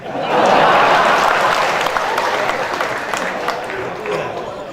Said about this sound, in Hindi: और अगली बात पर तालियां उठेंगी